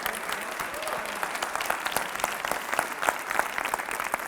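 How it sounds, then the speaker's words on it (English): Audience applause at a school leadership event, dense steady clapping from a crowd lasting several seconds, close and lively throughout. "Give it up for Ryan."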